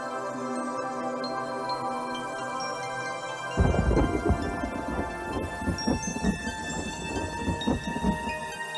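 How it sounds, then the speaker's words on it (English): After a few seconds of quiet tonal ambience, heavy forest rain in Coorg, India bursts in and keeps pouring, with deep rolling thunder rumbling through the downpour. "In Coorg, when it rains, it pours."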